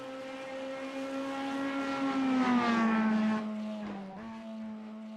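Flat-plane V8 race car engine in a sim racing sportscar challenge, a steady near drone that rises in pitch, then dips sharply as it shifts, with no talk over it.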